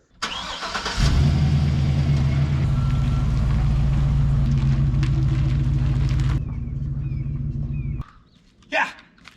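A 1984 Mazda miniature U-Haul truck engine starting and running, a loud steady rumble for several seconds that then quietens, with a dog barking and people talking.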